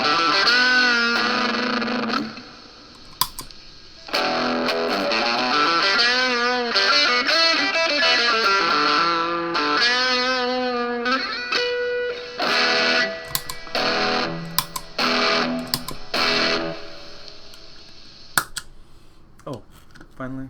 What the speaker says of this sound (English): Muff overdrive.